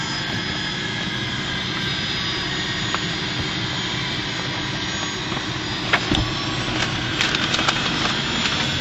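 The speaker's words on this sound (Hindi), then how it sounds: "जेट जा रहा" A jet aircraft near a large airport roars loud and steady overhead for the whole stretch, a broad continuous rumble with a few sharper transient knocks toward the end, and no talking.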